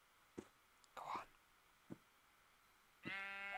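A sheep in the Minecraft Feed the Beast modpack gives one clear bleat at the end, after a few brief soft clicks and rustles on a quiet background.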